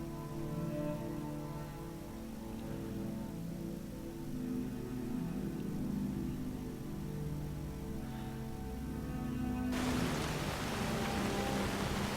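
Rain falls in the video game Skyrim, a steady soft hiss of rainfall over a low ambient drone, with the wash of rain growing brighter and denser near the end.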